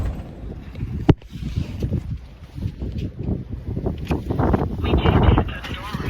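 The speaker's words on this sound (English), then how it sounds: "It's a little windy. I gotta hold on to the door." Gusty wind buffets the microphone outdoors, rumbling and swelling in uneven bursts with a sharp thump early on, while a voice speaks faintly under the noise.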